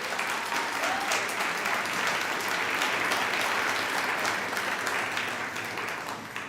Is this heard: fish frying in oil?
no